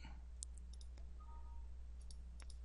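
A computer mouse clicks several times, faint and close, against quiet background hum.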